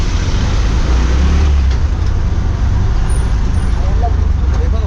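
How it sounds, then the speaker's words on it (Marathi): Heavy road traffic on the Ratnagiri road at Sangameshwar, a loud, constant rumble of passing cars, buses and trucks close by, with low engine drone filling the whole stretch. "ट्रॅफिक मजबूत झाला आहे इथे."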